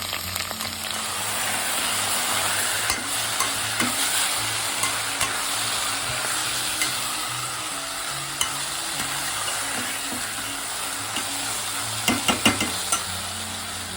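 Steady sizzling of tempering spices frying in hot oil, with occasional scraping and clinking as a spoon stirs the pan, close up and continuous.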